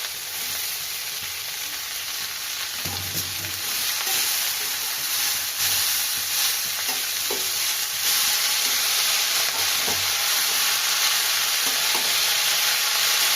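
Potatoes and fenugreek greens frying in a pan, a steady loud sizzle and hiss throughout with occasional scraping knocks of stirring, close up and continuous with no talk.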